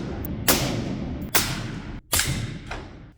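Three suppressed 5.56 rifle shots fired through a HUXWRX HX QD Ti suppressor at an outdoor range, each a sharp muffled crack with a short decaying tail, spaced roughly a second apart.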